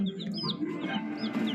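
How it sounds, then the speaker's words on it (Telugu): Small chicks chirping close by, several high peeping calls scattered over a low background rumble, with no one talking. "మా చిన్ని కోడి పిల్లలు ఎలా ఉన్నాయో చెప్పండి"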